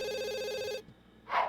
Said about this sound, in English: I guess the phone will go unanswered